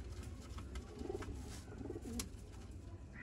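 Soft, low coos from Sialkoti pigeons repeat a few times against a quiet outdoor background, faint and close.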